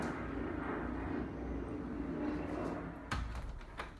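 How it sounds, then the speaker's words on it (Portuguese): A fixed-wing airplane passes overhead, a steady broad engine roar lasting several seconds before a couple of sharp thumps near the end, with no one speaking. "Um avião passando aqui,"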